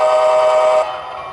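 TCS WowSound decoder in a BC Rail Dash 8-40CM model diesel locomotive built from a Kaslo Shops kit, sounding a loud, steady multi-tone air horn blast that cuts off and leaves a fainter humming tail.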